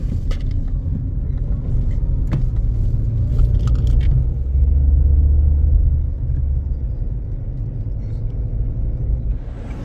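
Steady low engine rumble and road noise from inside an Uber car heading to the airport, continuous and fairly loud, with a few faint clicks and rattles.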